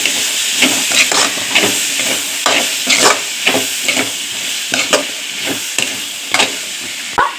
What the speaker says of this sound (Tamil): டொமேட்டோ சாஸ் ஊற்றிக்கிறேன். சிம்மில் வச்சுட்டு நல்லா கலக்கி விடணும்.